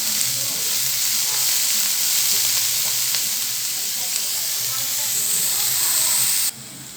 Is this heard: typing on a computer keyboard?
no